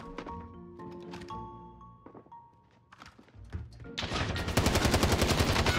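Gunfire in the video game Warzone: scattered thuds and single shots, then a loud rapid automatic burst that runs to the end.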